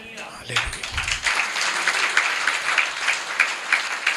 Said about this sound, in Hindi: तालियां बजाए, बहुत अच्छा है।